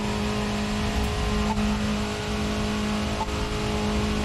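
A tuned VW Golf GTI engine drones loudly and steadily under acceleration, a constant, close cabin hum with faint ticking sounds.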